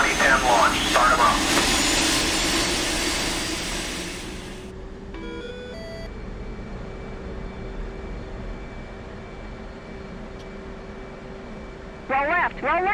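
Aircraft engines spool up on a carrier flight deck in DCS: a steady rising turbine whine grows under loud broadband roar, with brief voices and radio chatter over it.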